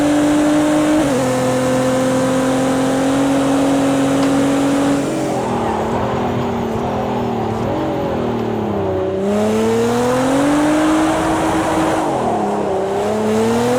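Nissan GT-R Nismo drifting in a racing video game, its engine droning and revving continuously with pitch swings as the throttle rises and falls, loud and close throughout with no talk.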